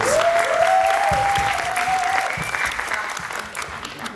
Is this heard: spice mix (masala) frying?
no